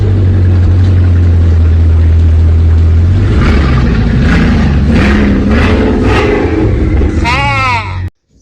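A Bugatti Chiron's engine fires up on a cold start, a loud steady low drone that rises into revving swells partway through before cutting off abruptly; a voice talks over it.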